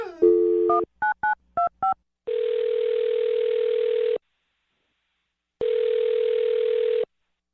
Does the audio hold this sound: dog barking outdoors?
no